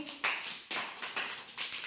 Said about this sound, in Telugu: వెరీ గుడ్, క్లాప్స్ కొట్టండి పాపకి